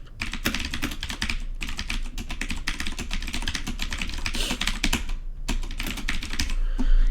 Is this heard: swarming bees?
no